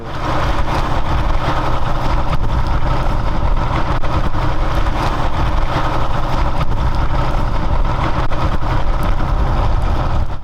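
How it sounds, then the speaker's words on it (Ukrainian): The engine of a homemade hydraulic tractor, steered by radio control like a toy race car, runs loudly and constantly at a steady idle-like drone with no breaks. "Трактор на гідравліки, гідравлічне воно там, і з допомогою радіопередатчика він керує як гоночна машинка."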